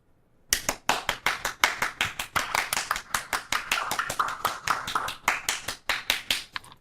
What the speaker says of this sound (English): We applaud you, sir.